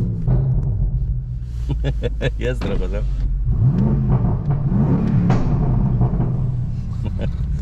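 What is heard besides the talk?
car engine revving through stock exhaust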